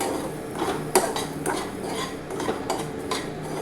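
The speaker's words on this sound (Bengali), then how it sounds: "এবারে সুন্দর করে সবগুলোকে ভাজবো।" Semolina and curry leaves are stirred in a pan with a metal spoon, giving repeated scraping, clinking strokes with a few sharper knocks, close and steady with no voices.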